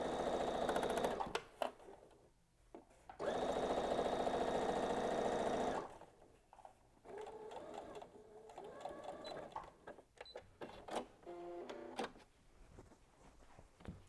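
A sewing machine stitches the sides of a fabric box, with loud bursts of rapid needle clatter and a short back stitch, broken by pauses filled with handling clicks and fabric rustling.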